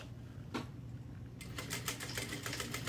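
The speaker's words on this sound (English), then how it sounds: "And now we can sew these down." A sewing machine stitching fabric, sewing down pieces with the stitch length set at 4; a brief tap, then a steady run of quick mechanical stitching that starts partway through, close and moderately loud.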